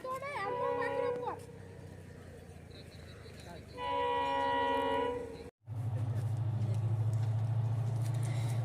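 A train arrives at a railway station, with a long sustained horn blast in the middle, then a loud low rumble of the rolling train. Voices and singing are heard near the start.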